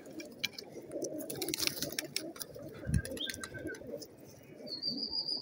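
Pigeons at a loft in Multan coo in low, throaty bursts, with one deeper coo standing out near the middle, alongside scattered chirps from other birds and faint background hum.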